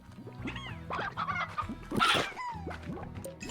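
Chickens and roosters in the video game Slime Rancher, several overlapping clucks and squawks in quick bursts, fairly close and loud, with a brief crowing-like cry in the middle.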